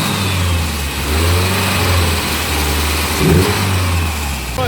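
A car engine on a Goodwood hot-lap outing, now firing on all 4 cylinders, revs close and loud with a smooth, even drone that swells and eases, no voices over it.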